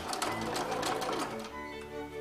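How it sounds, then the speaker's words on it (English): A sewing machine runs steadily, stitching a zipper onto a fabric pouch, its close, continuous mechanical whir easing slightly toward the end. "from the corner I'm going to start sewing it"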